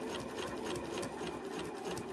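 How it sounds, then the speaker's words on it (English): Sewing machine running a steady straight stitch along the top edge of fabric with white thread and a medium needle, a continuous close, even whir throughout with no talk. "I just want to sew that top edge down"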